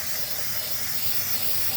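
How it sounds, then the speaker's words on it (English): Brake cleaner sprays from an aerosol can onto an H22 cylinder head, making a steady, loud, continuous hiss that lasts the whole moment without a break. "I'm going to go ahead and spray it out with brake cleaner"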